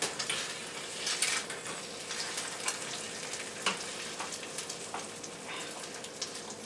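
An egg fries in a pan with a steady, crackling sizzle marked by small pops, close and moderately quiet, with no one talking.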